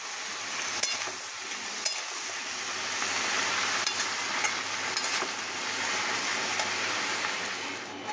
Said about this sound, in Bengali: মশলাটা দিয়ে দেবো, দিয়ে কষাবো, কষিয়ে অল্প জল দেবো